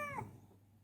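A pet cat gives a single short meow, faint and close, that quickly trails off into quiet room sound.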